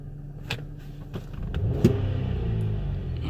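A 2008 GMC Acadia front-wheel-drive 3.6L V6, which has multiple MAP sensor fault codes, is revved in a single throttle snap. The engine rises briefly over a steady idle, close and moderately loud.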